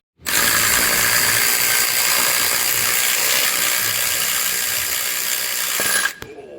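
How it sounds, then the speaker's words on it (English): Fine-tooth ratchet working a starter bolt loose on a 2015-or-later Honda Fit: a steady, dense, continuous clicking whir that stays loud and close for about six seconds, then stops abruptly. "make sure you have a fine-tooth ratchet to be able to crack this bolt loose"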